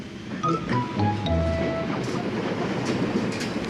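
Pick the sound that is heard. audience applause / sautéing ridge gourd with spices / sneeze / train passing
train passing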